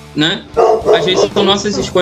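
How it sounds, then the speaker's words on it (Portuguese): A small dog barks in quick sharp yips several times, close and loud, overlapping someone talking continuously. "Desculpa o latido, tá? Tem um cachorro aqui, um doguinho."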